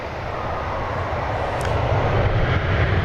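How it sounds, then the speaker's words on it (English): A DHL Boeing 767 arriving from Cincinnati crosses the runways at foggy DFW Airport, its engines a steady, fairly close low rumble that grows slightly louder over a few seconds. "Crossing the runways now is a DHL 767 coming in from Cincinnati in the mustard and ketchup livery."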